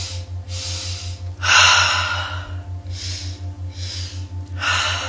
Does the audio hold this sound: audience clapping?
no